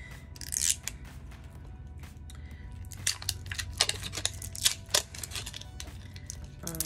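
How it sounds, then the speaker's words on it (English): Plastic packaging on an Il Makiage makeup product is torn open up close, giving sharp, irregular crackles and crinkles that come in bursts over a quiet room. "Okay, so I'm opening the plastic."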